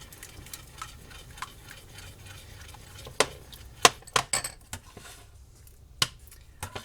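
Spoon stirring beef stroganoff gravy in a pot: soft repeated scrapes and a few sharper taps against the metal, close and moderately quiet over a steady low background hum, with no voices.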